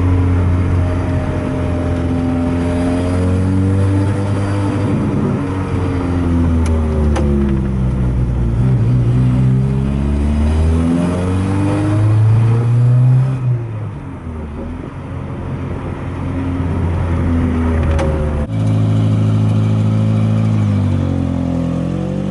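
A car with an AP engine is driven on a test track, its engine close and loud as it revs up and down repeatedly, with a brief drop around the middle before climbing again.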